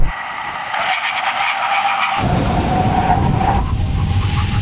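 SUVs — Range Rover, Bentley Bentayga, AMG GLE 63 and Audi SQ7 — brake hard from 100 mph on a drag strip, with loud, sustained tire squeal and skidding that swells and holds for several seconds.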